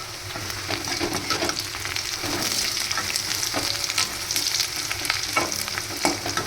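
Onions and curry leaves sautéing over high flame in a pan for a tomato thokku, a steady close sizzle and crackle with occasional stirring scrapes, no talking.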